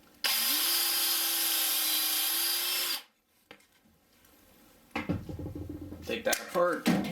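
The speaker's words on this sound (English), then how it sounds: "Take your drill." A handheld power drill whines steadily for about three seconds at close range, then stops, followed by clattering and tool handling with a voice talking during framing work inside a school bus conversion.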